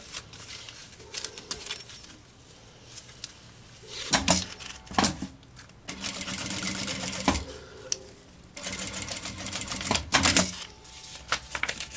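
A sewing machine stitching a backpack strap, running in several rapid, rattling bursts separated by short pauses, close and fairly loud.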